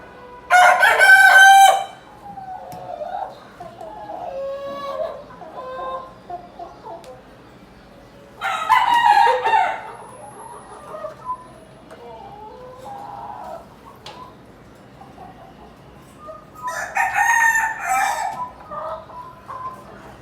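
A Tiger breed rooster on a poultry farm crows three times at spaced intervals, each call loud and near, with softer clucking and faint background voices in between.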